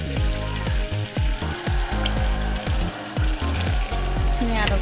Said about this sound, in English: now I'm going to add 2 tablespoons of flour so I can get it nice and thick.